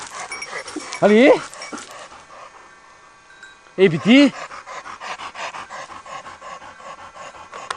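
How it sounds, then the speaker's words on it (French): A hunting dog pants steadily through the clip at close range, with a couple of louder bursts of breathing or whimpering, while people talk over it outdoors on the opening day of the hunting season. "il faut que le chien travaille"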